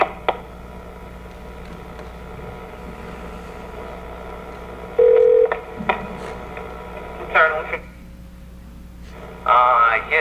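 A telephone call is transferred on a 1993 line: a steady tone, then bursts of DTMF dialing beeps, heard through a muffled phone connection with some background hum.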